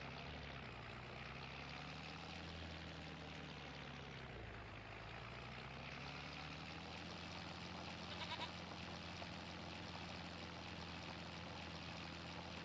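Sheep and goats bleating in Farming Simulator 25, heard faintly over a steady machine-like hum that runs throughout, with no talk.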